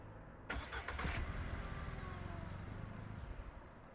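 A vehicle engine in Ranch Simulator catches with a brief sputtering start, then settles into a steady, fairly quiet idle with a low rumble.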